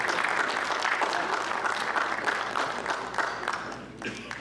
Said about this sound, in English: please give a big round of applause for all the volunteers who have helped them to make this happen